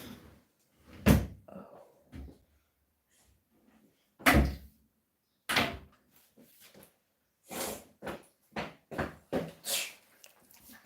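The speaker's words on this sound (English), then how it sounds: "Close the door for me, please." A door being pulled shut indoors gives a few sharp knocks and clattering thumps, spaced apart and fairly close, with quiet gaps between them.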